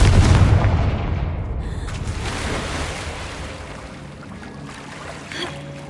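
Confringo blasting spell explosion in Hogwarts Legacy, a loud booming blast at the start that rolls off into a long, fading rumble with a small thud near the end, with no voices.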